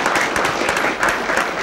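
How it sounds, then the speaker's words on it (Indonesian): Steady applause from a studio audience for the guest Dekira, dense clapping at an even level throughout, with no one speaking over it. "Ya tepuk tangan untuk Dekira"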